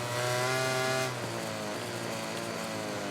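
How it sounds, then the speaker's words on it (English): Motorcycle engine in the MotoGP 18 video game, a Pramac bike whining steadily under engine braking through a slow section, with a sustained harmonic drone that drops in pitch partway through and stays continuous and loud. "You can probably hear the engine just whining all the time as he tries to do the engine braking."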